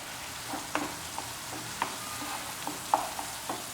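Onion, tomato and garlic masala for mutton bheja sizzles and fries in a pan, a soft steady crackle broken by about eight light scraping clicks of a spoon stirring, close up and without speech.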